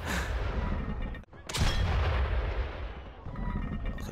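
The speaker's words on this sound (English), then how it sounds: "I like how no one's questioning the cannon that's firing." A loud cannon blast booms in the video game Valiant Hearts, followed by a second heavy shot, with rumbling noise filling the gaps.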